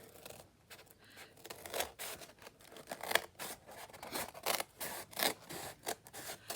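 Scissors snip through a small piece of cardboard in a series of crisp, irregular cuts, close and fairly quiet with no talking.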